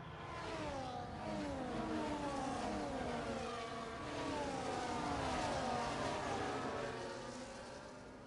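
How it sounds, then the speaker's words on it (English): Race car, the safety car in an Abu Dhabi race, droning engine with rising and falling pitch sweeps as it passes, fairly distant and steady throughout, no talk. "here comes the safety car"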